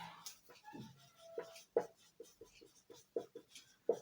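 Pen or marker writing out a mathematical induction proof, with short scratchy strokes and taps in an uneven rhythm, close and quiet with no talking.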